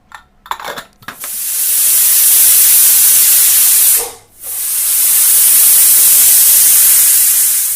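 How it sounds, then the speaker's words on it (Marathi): A pressure cooker on a gas stove, cooking drumsticks, gives off a loud, sustained steam whistle. The hiss runs for about three seconds, stops briefly, then resumes for several seconds. Softer kitchen clatter comes just before it. "तर आता मी चार पाच शिट्या घेतलेल्या आहेत आणि गॅस बंद केलेला आहे"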